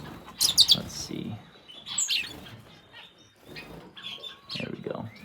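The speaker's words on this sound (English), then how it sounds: "He's got a pair of amidemas and a pair of diamond sparrows in here as well." Small amadina finches and diamond sparrows give a few bright, high chirps and short calls inside an aviary, scattered across the clip with rustling and a low voice murmuring underneath.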